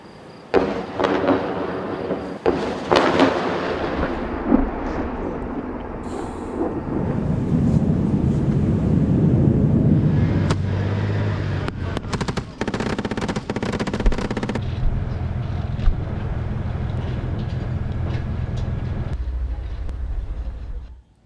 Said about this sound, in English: Heavy bombardment by Israel continues.